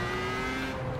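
A Formula 1 car at Suzuka in Project CARS oversteers through a corner. Its engine holds a loud, close, steady buzzing drone under a rough edge of tyre scrub for about a second.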